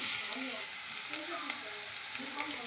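Onion frying in oil in a pot for plov, a quiet, steady hiss of sizzling that holds evenly throughout, heard close with no talking.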